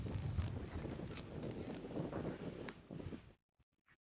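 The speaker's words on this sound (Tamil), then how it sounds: "ஸோ காத்து அடிக்குது, ஆனா காத்து வந்து ஆஃப் சைடில் அடிக்குதுங்க." Wind blowing at an outdoor cricket ground, heard as a constant loud rumble buffeting the microphone that stops suddenly, followed by a couple of faint knocks.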